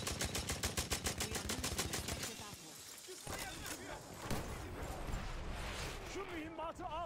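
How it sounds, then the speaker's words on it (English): Gunfire in a video game battle: a fast machine-gun burst of evenly spaced shots opens, then scattered shots and sharp cracks continue while players talk over the noise. "I'm shooting at him."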